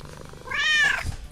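A cat lets out a single loud, drawn-out meow lasting about half a second, close by, over a quiet room.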